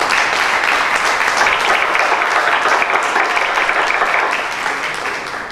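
A conference audience of environmental engineers in Port Harcourt applauds after an address, a loud, even wash of many hands clapping that tapers off slightly near the end.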